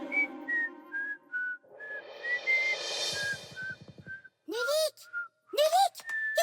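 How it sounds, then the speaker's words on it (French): A person whistles a wavering tune in clear, bright notes, alone at first, then with a short burst of rough hissing and a few sliding whoops near the end. "Je siffle un morceau."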